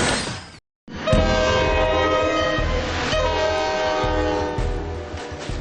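A train rolls past a railway crossing with a loud, sustained horn blast over the rumble and clatter of the rail cars, close and continuous after a brief gap of silence at the start.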